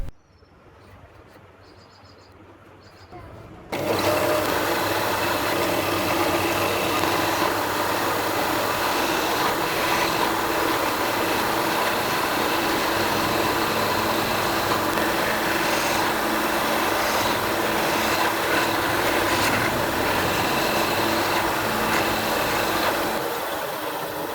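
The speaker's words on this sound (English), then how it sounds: "I am marking the mortises which are to be drilled." A power drill bores mortises into wooden furniture frame strips, a loud steady whine that starts abruptly after a few quiet seconds and runs continuously without a break.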